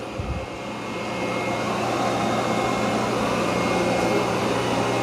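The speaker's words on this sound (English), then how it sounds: "But this is doing a really good job vacuuming this carpet." A robot vacuum, a Dreame X40 self-emptying vacuum and mop, runs over carpet with a steady, loud motor whir and airflow hiss that holds constant throughout, close by and alone.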